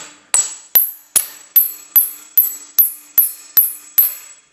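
Ten sharp metallic hammer strikes in a steady rhythm as a wheel bearing is driven into place on a BMW E91, each ringing with a bright, high-pitched clang that decays quickly, close and loud with no talking.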